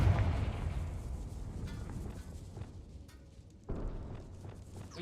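A Confringo spell explosion in the Hogwarts Legacy video game, a deep booming burst at the start that rumbles away, followed by a second thud, moderately loud with no talking.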